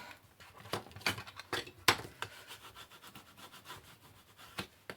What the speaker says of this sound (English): just burnish all of that tape down really nice and well